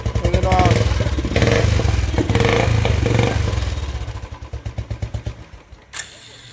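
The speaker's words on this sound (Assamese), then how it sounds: "গাড়ী এইটো ষ্টাৰ্ট কৰি দিওঁ।" A Royal Enfield Classic 350 motorcycle engine runs loudly and steadily, then slows into a series of distinct chugging pulses before fading out.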